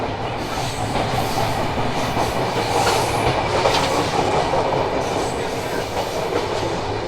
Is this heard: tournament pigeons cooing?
no